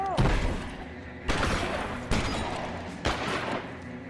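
Gunfire in the L.A. Noire video game comes as four sharp, loud shots or short bursts spaced about a second apart, each ringing off into a reverberant tail.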